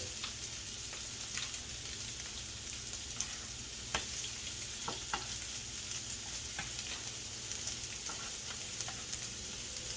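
Orange roughy fillets fry in a pan during an asparagus stir-fry with soy sauce, a steady close sizzle broken by scattered soft clicks and taps of utensils.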